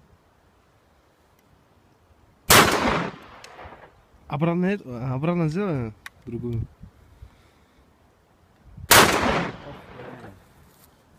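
A BM-16 shotgun fires Fetter factory shot shells twice, with two loud, sharp blasts about six seconds apart. Someone speaks briefly between the shots.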